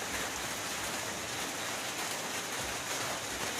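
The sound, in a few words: heavy rain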